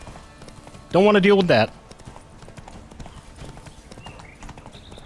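Roach the horse clip-clops along in The Witcher 3, a steady rhythm of hoofbeats running under a brief spoken remark and continuing beneath quiet game ambience.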